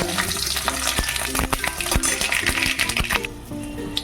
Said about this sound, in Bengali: এবার দেখো একটু সর্ষে আর একটা কাঁচা লঙ্কা ফোড়ন দিয়ে